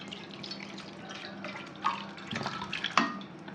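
Water is poured into a cooking pot on a home stove, a soft splashing and trickling that swells into louder gushes toward the end, close and fairly quiet.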